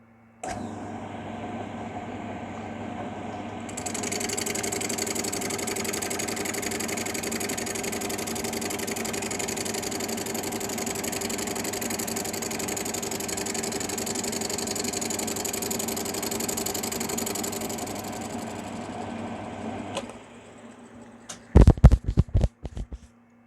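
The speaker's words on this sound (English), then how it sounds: "where I'm cutting it with the lathe" A lathe cuts Jabroc laminated wood, a steady sustained machine whir and cutting hiss that swells after a few seconds, runs evenly, then cuts off, followed by a few sharp knocks.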